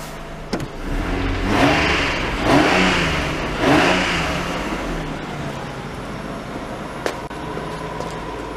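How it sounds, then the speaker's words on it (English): A Nissan Skyline R32 engine idles and gets blipped a few times, each rev swelling and falling back in quick succession, close and fairly loud, then settling to a steady idle with a faint click. "I'm going to give it a few revs just to make sure"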